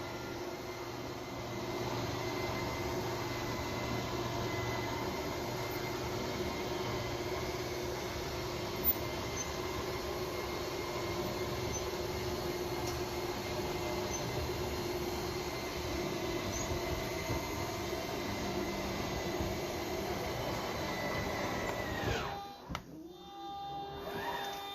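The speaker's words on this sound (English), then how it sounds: "Your slide room, which is the slide out right there." Slide-out room motor on a 2015 Coachmen Freelander 21RES motorhome, a steady mechanical hum and whine that runs unbroken for over twenty seconds and then cuts off abruptly near the end.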